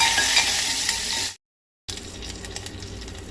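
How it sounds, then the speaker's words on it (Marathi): Mustard seeds, asafoetida and curry leaves crackle and sizzle in hot oil for a Goan clam dish, a close, busy frying sound that cuts off into a short silence and then resumes more softly. "तेल तापलें काय ना सांसवां घालपाक जाय आनी हिंग पावडर इल्लो घालपाक जाय। करवील घालता आतां तितून।"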